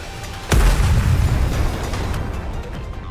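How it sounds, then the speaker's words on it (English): Wildly fired missiles strike and explode in the mobile game Goddess of Victory: Nikke, with a sudden loud blast and a rumbling roll of further impacts that sustains and slowly eases. "The missiles have no homing ability. It's just firing wildly!"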